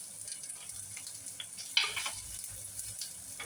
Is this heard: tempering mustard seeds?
yes